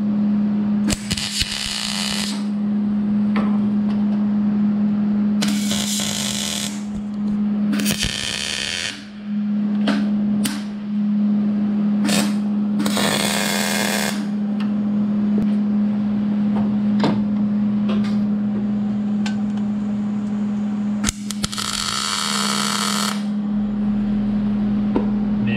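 A Jeep turbo downpipe being tack welded in place: several short crackling bursts of a few seconds each, spaced apart, over a steady electrical hum.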